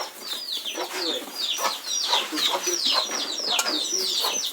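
Chickens cluck repeatedly in a village yard in the Caribbean where disease is affecting the flock, with overlapping calls forming a steady, close chorus.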